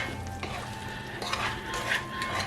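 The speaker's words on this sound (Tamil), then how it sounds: "5 மினிட்ஸ் பிறகு கொஞ்சம் நல்லா கிளறி விடுங்க." Beef roast curry being stirred in a hot pan, with a spoon scraping and turning the sizzling meat in short strokes, close and fairly loud, no talk.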